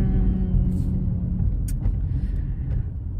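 Car driving on a road during a stormy day, a steady close engine and tire rumble running throughout with brief higher whooshes from passing traffic.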